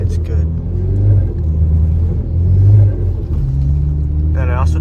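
A Ford Focus ST slides on snow in a parking lot, its engine droning steadily with swells of revving as it turns from pavement into the snow, loud and close throughout.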